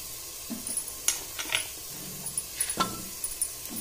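Cut cauliflower, peas, potatoes and tomatoes being stirred together in a pan for mixed veg tahari, giving soft scattered sizzles and scraping clinks at a close, moderate level with no talking.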